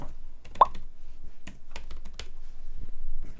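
Quick keystrokes on a Logitech K380 wireless keyboard paired with an iPad, a run of light, close plastic clicks in an irregular typing rhythm with no talk.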